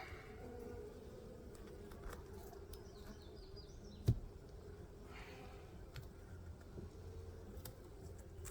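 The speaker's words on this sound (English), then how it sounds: "Good healthy population of bees here." A healthy honeybee hive hums with a steady, low buzz of many bees, faint and continuous, with a few individual bees droning closer and one brief knock partway through.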